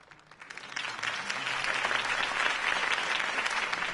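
A crowd in the Batman Telltale Series video game breaks into applause that swells within the first second and holds as a steady, dense wash of clapping with no voices.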